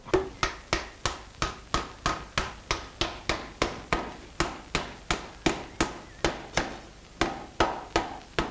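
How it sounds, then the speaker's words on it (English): A hammer drives an iron hoop onto a handmade oak wine barrel, striking about twenty sharp, evenly paced blows close up with no talking. "the first hoop is driven on with a hammer to lock the form."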